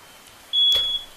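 Electronic alarm beep in Minecraft, a single steady high tone starting abruptly and holding for about half a second alongside a brief noisy burst, fairly loud over a quiet background.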